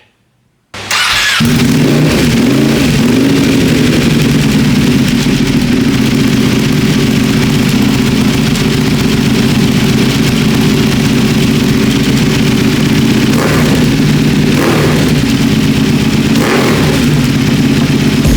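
A Ducati 959 Panigale's Van Diemen undertail exhaust idles loud and close, then gets blipped in a few sharp revs near the end.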